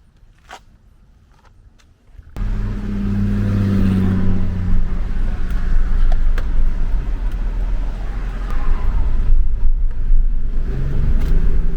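A car cruises north on a highway, with a loud steady road roar and engine rumble that begins abruptly after a couple of seconds of near quiet with a few clicks.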